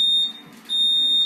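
A fire alarm lets out high, piercing electronic beeps indoors: one long tone, a short gap, then another sustained tone, loud and close.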